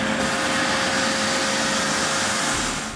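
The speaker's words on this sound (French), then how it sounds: "Nous, on va aspirer ce fluide biologique." Suction machine aspirating biological fluid, a steady loud whooshing hiss with a faint hum, continuous for the whole moment with no talking.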